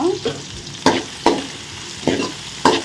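Sliced onions sautéing in a pan, a continuous sizzle broken by four or five sharp spatula scrapes and stirs at an uneven pace, close and fairly loud, no voices.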